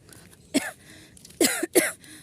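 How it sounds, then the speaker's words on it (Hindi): Three coughs from a person with a scratchy throat: a single cough, a pause, then two more in quick succession, fairly close and moderately loud with no talking. "हल्की सी हमको खांसी भी आ रही है सुबह से"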